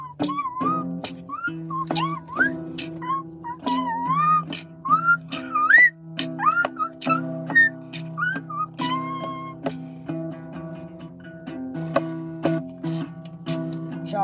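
A tonal whistle sounds in a series of short rising and bending notes against a steady background drone, with quick ticking clicks scattered throughout.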